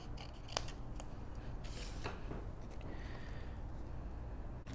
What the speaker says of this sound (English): I'm going to cut out this cute fairy hiding underneath the mushroom.